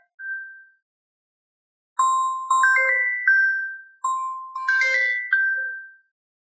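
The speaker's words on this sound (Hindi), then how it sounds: "एक सेकेंड में फोन साइलेंट कर लेता हूं" A phone ringtone goes off in the middle of a physics lecture: one short tone, then a pause, then a clear, loud electronic melody of bright chiming notes that repeats.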